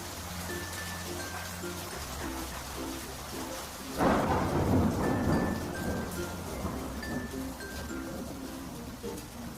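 Heavy rain pours steadily while thunder breaks out loudly about midway and rumbles on, with faint bird calls in the background during a rural monsoon storm near a fish pond.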